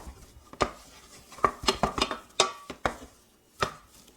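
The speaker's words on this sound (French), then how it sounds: "on va mélanger rapidement, hors du feu toujours, jusqu'à ce que notre pâte soit homogène et forme une boule" Choux pastry dough for a Paris-Brest being mixed quickly in a saucepan off the heat, heard as a series of sharp knocks and scrapes of the spoon against the pan, irregular and close, with no voices.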